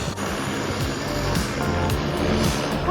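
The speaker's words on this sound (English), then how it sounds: "Watching the airplane now." Airplane flying overhead, a continuous broad engine roar with a steady low drone, heard throughout at moderate loudness without talk.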